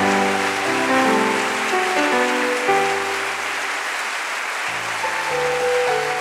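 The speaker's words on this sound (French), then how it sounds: "je voudrais ce matin qu'on élève une acclamation pour ces pasteurs et ces hommes de Dieu" A church congregation at a Sunday worship service applauds steadily, a dense wash of clapping under sustained organ or keyboard chords that shift pitch, with no speech.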